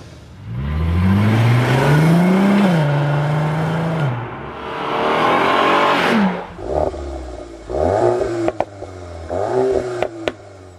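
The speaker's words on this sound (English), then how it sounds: "let's also compare the sound of the R32 model 20 years back" A Volkswagen Golf R32 engine revs up and down through its exhaust, rising and falling in pitch, then several short sharp throttle blips near the end.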